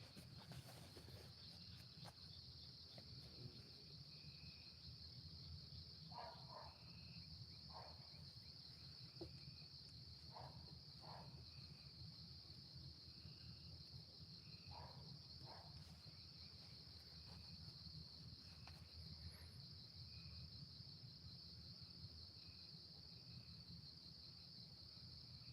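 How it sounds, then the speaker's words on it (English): Tree frogs call at night, a faint, continuous high chorus with scattered short chirps, quiet and distant against a low background hum. "I don't know if you can hear them tree frogs or not"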